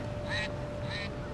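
A stuffed toy duck with a built-in noisemaker gives two short, bright electronic quacks in a row, close by and moderately loud over a steady low background hum.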